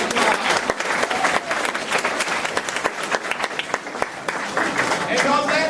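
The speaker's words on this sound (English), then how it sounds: "Let's give her a round of applause." An audience at a theatrical event applauds a young woman who has won a fried pie, with close, sharp individual claps over crowd noise and voices chattering underneath.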